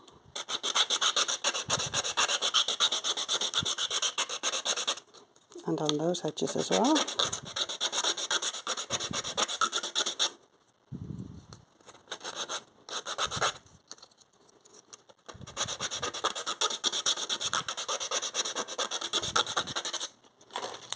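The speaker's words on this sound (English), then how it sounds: "The rougher the sandpaper, the quicker the sanding." Rough sandpaper rasps steadily against wooden lace bobbin stackers in long scratchy bursts with brief pauses, and a voice speaks once between strokes.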